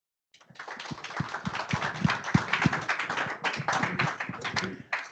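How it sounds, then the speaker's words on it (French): A conference audience applauds steadily, dense overlapping claps filling the room for several seconds before fading out at the end. "Et on vous applaudit."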